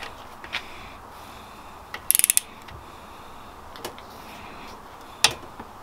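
A wrench ratchets while tightening engine bolts to 23 foot-pounds during a rebuild of an air-cooled VW Beetle engine. A quick run of sharp clicks stands out, with a few isolated ticks and clanks before and after in a quiet workshop.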